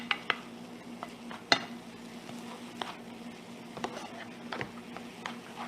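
Tomatoes stir-fried in a pan, with faint scattered taps and scrapes of stirring and a soft sizzle underneath, quiet and close.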